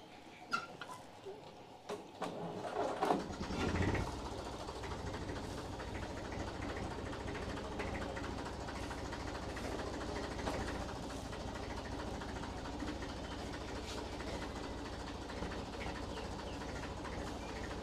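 A tractor about fifty years old runs steadily as its hydraulic lift lowers, a continuous mechanical drone and rattle after a few knocks and clanks at the start, with no talking.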